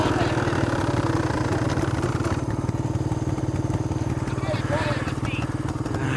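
A motorcycle engine idles close by with a steady, rapid low-pitched chug that runs the whole time, while people talk over it.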